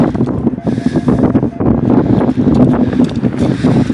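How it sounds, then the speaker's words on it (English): Strong wind buffets a microphone outdoors on a metal detecting dig in the UK, a continuous loud rumbling roar with gusting swells throughout, no voices. "I've got the wind right behind me"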